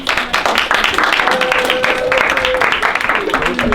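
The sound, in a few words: classroom applause for a student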